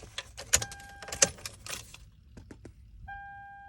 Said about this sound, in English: So I'm going to go and turn ignition on.